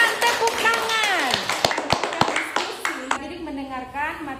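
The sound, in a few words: classroom applause, students clapping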